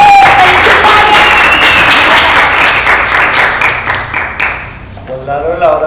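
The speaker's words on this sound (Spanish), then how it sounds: "Otro aplauso." Loud, close applause from an audience at an illustration, comic and photography fair talk, thick clapping that gradually thins and fades over several seconds before voices return at the end.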